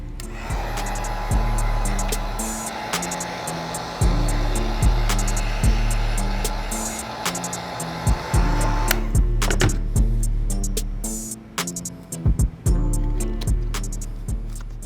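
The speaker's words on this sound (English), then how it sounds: "Let's heat up the glue so we can put these together." A heat gun blows hot air to reactivate glue on the sole of a Nike SB Dunk during a sneaker restoration, with a loud, close, steady whooshing roar that cuts off partway through, followed by quieter scattered handling clicks.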